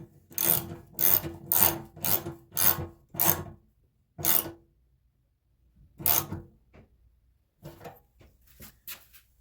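Bolts on a 2000-watt Harbor Freight generator are tightened in a crisscross pattern, heard as short, close ratcheting bursts in quick succession, then a few sparser clicks separated by quiet pauses.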